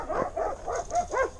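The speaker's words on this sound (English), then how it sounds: "Trying to not get killed by attack dogs." Dogs at a military museum and gun shop bark in a quick series of about five sharp yaps, close and fairly loud, with no talking over them.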